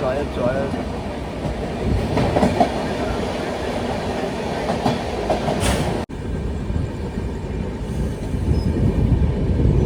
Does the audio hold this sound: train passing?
yes